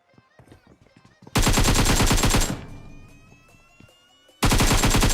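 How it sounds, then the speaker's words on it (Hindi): Rapid automatic Beryl rifle fire in PUBG Mobile comes in two loud bursts. Quieter scattered shots and clicks come first, and a fading tail follows the first burst. "लेकिन भाई कोई बंदा पीछे से फायरिंग करता है बैरल से।"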